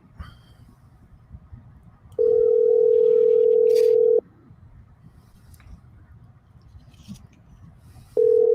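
A telephone call tone sounds as a steady hum lasting about two seconds, then silence for about four seconds, then the next tone begins, over a quiet background.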